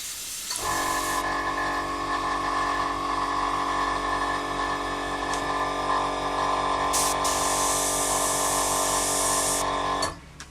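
An Iwata CR Plus airbrush spraying paint onto a table gives a steady, close hiss lasting about ten seconds with a faint mechanical hum beneath, starting and stopping abruptly, with no talk.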